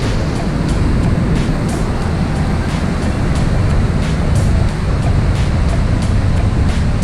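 A loud, constant roar of a flooded river and waterfall in Bracebridge, Ontario, during 2019 flooding fills the whole clip, dense and unbroken, like a powerful torrent heard up close.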